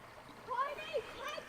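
A river in Australia flows and splashes faintly in the background, a soft continuous wash with light watery movement beneath a few brief high tonal chirps.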